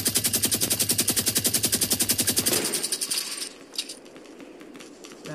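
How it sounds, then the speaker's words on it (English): A minigun fires in the Fortnite video game as a fast, steady stream of loud rattling shots that stops partway through, leaving faint ambient game sounds and a few scattered clicks. "With a minigun."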